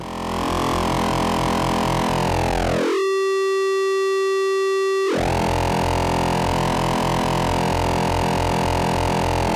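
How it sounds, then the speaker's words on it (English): A droning synthesizer tone drops away and a pure, piercing sine tone rings out alone for a couple of seconds, like feedback, before the buzzy texture returns. "the sine wave will pop out, thus faking a Larsen effect"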